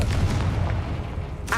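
In Hogwarts Legacy, a Confringo fire spell produces a short booming blast with a low rumble that fades, followed by a quick sharp burst at the end.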